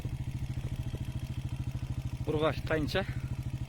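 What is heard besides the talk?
motorcycle engine running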